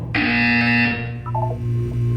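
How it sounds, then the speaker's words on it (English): Buzzer from the video game Portal, a loud harsh electronic tone held for about a second, then a short stepped series of lower blips and a lingering hum, alone with no talking. "You will hear a buzzer"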